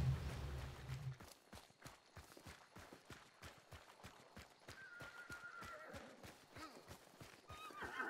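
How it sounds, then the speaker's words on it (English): A horse in the video game Hunt Showdown, with a short neigh near the start followed by a steady run of clip-clop hoofbeats and a few brief tonal game sounds toward the end. "Sometimes with a horse, you gotta punch him like two or three times."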